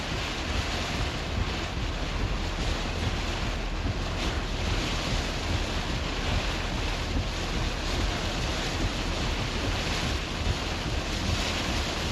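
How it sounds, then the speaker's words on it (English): Strong wind from Tropical Storm Chantal's landfall roars steadily across the microphone with a constant broadband rush, like gusts battering an exposed spot near surf. "Still very, very windy."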